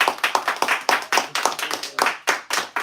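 A small group of people clap together at a casual sit-down gathering, a steady run of sharp, close hand claps carrying on for a few seconds with no voices over them.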